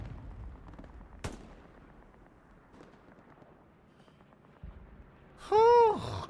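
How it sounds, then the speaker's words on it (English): A single sharp gunshot cracks out early in a Hell Let Loose match on the Stalingrad map, followed by a few faint distant pops. A deep booming blast with a ringing tonal sweep arrives near the end. "Who's shooting there?"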